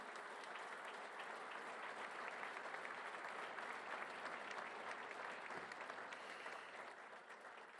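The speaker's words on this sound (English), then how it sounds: "So I want to ask for a big round of applause for Agustin." Continuous audience applause for Agustin at a Faro Foundation speech, a broad, even roar of many hands clapping that runs unbroken for several seconds and recedes slightly toward the end.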